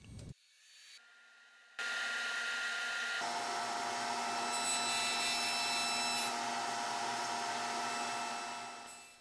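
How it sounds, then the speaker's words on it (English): A wood router whines loudly and steadily while cutting a 1/8-inch round-over on shelf pieces, rising to full speed after a brief start and running continuously. "I'm doing a 1/8-inch round over on all the pieces"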